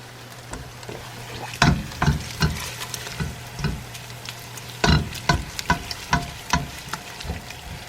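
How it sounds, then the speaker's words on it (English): Tomato paste being stirred into onions and garlic in a hot pan: soft sizzling underneath, with repeated scraping strokes of the spoon at an uneven rhythm, close and fairly quiet, with no talking. "we're coating the onions, we're coating the garlic, mixing it all up, at the same time thinning out that paste a little bit"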